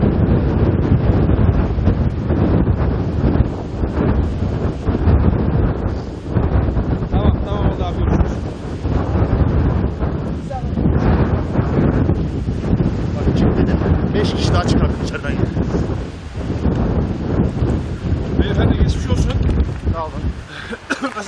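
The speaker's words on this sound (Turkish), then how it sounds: "Acayip bir rüzgar var." Strong wind during a fire in Bodrum buffets the microphone in a continuous loud roar, with voices talking underneath throughout.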